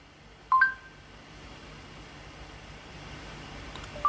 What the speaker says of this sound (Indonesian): Kemudian akan muncul suara semacam notifikasi atau nada.